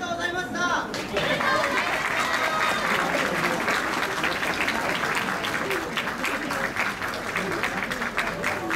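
Audience applause after a taiko drum performance at a shrine plum festival, dense sustained clapping from a sizable crowd that swells in after a brief pause and continues with some chatter and a voice over it.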